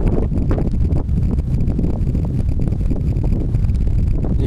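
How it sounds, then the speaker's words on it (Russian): Strong wind buffeting the microphone at a spring fishing spot on the Konstantinovskaya oxbow river, a continuous loud low rumble with uneven gusty thumps throughout. "Сраный ветер, жуть."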